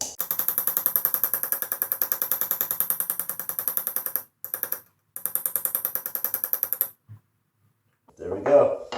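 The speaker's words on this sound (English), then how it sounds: "with that 5-ounce hammer, I'm going to just jump right in" A 5-ounce hammer taps a chasing tool against brass in a fast, even run of sharp metallic strikes, broken by two short pauses, then stopping as a voice briefly speaks at the end.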